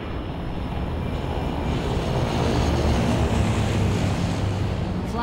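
A steady, loud airplane engine drones from an aircraft in Left 4 Dead 2's Dead Air airport, a continuous broad roar that swells slightly midway and holds without talk.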